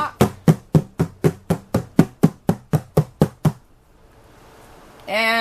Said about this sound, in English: Give it a knock.